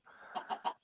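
Chickens in a Minecraft modpack give a quick run of three soft, close clucks in under a second, with no talking.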